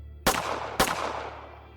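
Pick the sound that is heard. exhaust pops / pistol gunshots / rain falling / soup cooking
pistol gunshots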